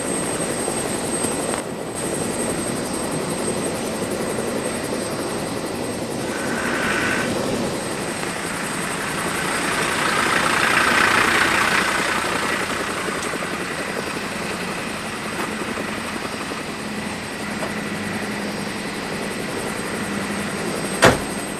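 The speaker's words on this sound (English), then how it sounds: "I saw one of their yellow helicopters. It was just taking off." A yellow search and rescue helicopter takes off at an airfield in North Wales, and a steady, loud rotor and engine roar runs throughout. The roar swells slightly midway and ends with a brief knock. No one speaks.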